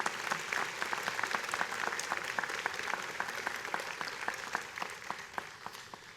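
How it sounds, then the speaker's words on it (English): A commencement audience claps in sustained, dense applause that stays steady and full for several seconds before gradually thinning out, with no voices heard. "So please give them a round of applause."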